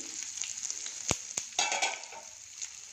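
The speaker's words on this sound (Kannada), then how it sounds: "ಒಂದು ಮೂರು ಮೆಣಸಿನ್ಕಾಯಿ ಹಾಕ್ತೀನಿ ಇದೆಲ್ಲ ಸ್ವಲ್ಪ ಚಟಪಟ ಅಂತ ಸಿಗಿದ್ವಿ" Whole dried red chillies spluttering and crackling in hot oil in a pan, a steady sizzle broken by a few sharp pops and a brief burst of louder spitting near the middle, with no talking.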